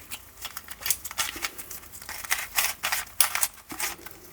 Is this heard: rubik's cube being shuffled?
yes